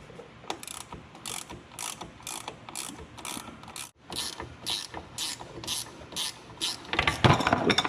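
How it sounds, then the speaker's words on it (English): A hand ratchet clicks in quick repeated bursts while backing 10 mm bolts out of a Kawasaki Mule brake cylinder, close and moderately loud, with a brief pause midway and a louder clattering burst near the end. "I'll just use a ratchet to get those out."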